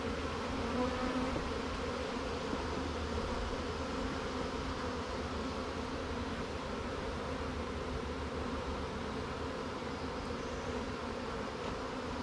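Honeybees in a shaken hive fill the space with a dense, continuous buzzing drone that holds steady and close, with no voices over it.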